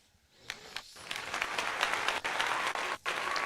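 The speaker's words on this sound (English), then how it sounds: "I'll give him a little applause for that." A crowd claps in sustained applause that swells and holds, with a few brief dips, heard from a distance like stadium spectators at an MLB opening day game, Phillies at Nationals.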